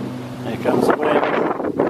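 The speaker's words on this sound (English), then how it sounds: "Here comes the wind." Gusting wind rushes past a newly built homemade wind turbine mounted on push-bike bearings, a loud, buffeting roar that swells and dips over a couple of seconds.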